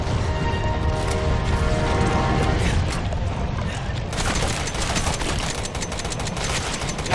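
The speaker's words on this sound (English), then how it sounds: "I'm just gonna keep shooting your face." Sustained gunfire in Resident Evil 7: Biohazard, a steady, dense barrage of shots with mechanical clatter that sharpens into harder, crisper reports in the latter half.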